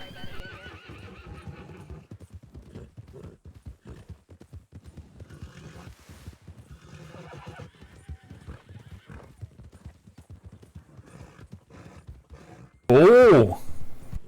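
Hooves gallop in a steady rapid rhythm during a horse race in a video game, with a loud, close whinny bursting out near the end.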